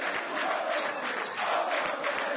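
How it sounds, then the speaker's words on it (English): Selborne College supporters at a schoolboy rugby match cheer and applaud in a steady, loud crowd roar that swells in waves from start to finish. "A well-pleased Selborne College crowd here cheering on their stripes."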